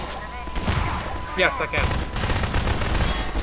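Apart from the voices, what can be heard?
gunfire in Half-Life 2 Synergy co-op video game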